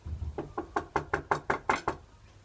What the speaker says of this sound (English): So they knocked on a door.